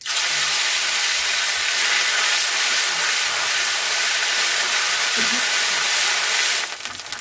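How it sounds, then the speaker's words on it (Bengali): Cumin and ground spice paste sizzling in hot oil in a wok, a steady loud continuous hiss that fills the whole stretch and eases off only at the very end. "কড়াইতে গরম তেল আছে তার মধ্যে আমি একটুখানি জিরে দিলাম"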